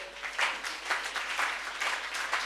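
Church congregation applauding in a Kenyan church service, a light patter of claps from a modest group, moderately distant and steady for a couple of seconds with no talking over it.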